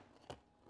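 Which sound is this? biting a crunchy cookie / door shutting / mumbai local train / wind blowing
biting a crunchy cookie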